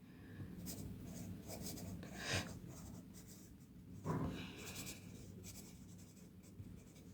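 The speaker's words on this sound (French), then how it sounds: "J'écris en même temps." Pen scratching across paper during a clinical case write-up, a soft continuous scribble with two brief louder strokes, close and steady with no talking.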